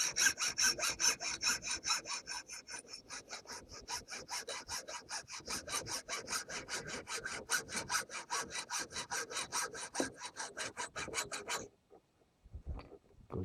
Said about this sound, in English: So we'll begin by shortening the dowel. Radiata pine by the feel of it.